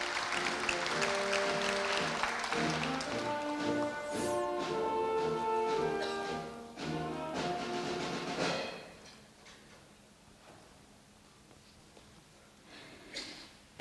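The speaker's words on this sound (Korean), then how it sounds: "축하의 박수 부탁드립니다." Congratulatory applause at a university anniversary ceremony and award presentation, a sustained, moderately loud burst of clapping from the assembled audience that fades out into near silence.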